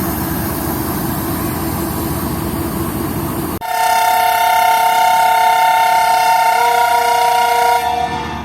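Shah Hussain Express train departing Khairpur railway station in Pakistan: a rumbling idle gives way to a long, loud, sustained horn blast lasting several seconds, followed by a sudden stop.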